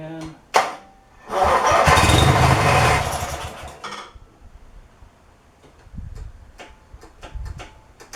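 An engine dosed with carb cleaner cranks and catches briefly in a loud, rough burst lasting about two seconds after a sharp click, then dies away to quiet ticking and a few soft knocks.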